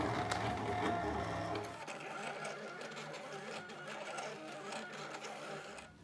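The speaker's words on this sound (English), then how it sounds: "I'm going to now send it to my Silhouette Cameo, and I'm going to click start" A Silhouette Cameo cutting machine works through a vinyl stencil for a wooden farmhouse sign, its motor whirring steadily with quick rhythmic ticks and carriage movements, fairly close and uninterrupted.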